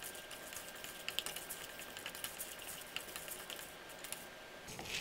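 Fenugreek seeds and urad dal fry in very hot oil, giving a faint, steady sizzle with small crackles and pops scattered throughout.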